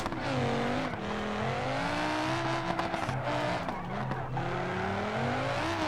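A powerful race-style car in the BeamNG driving game breaks its tires loose, the engine roaring and rising in pitch while the tires squeal and skid in bursts, loud and close throughout.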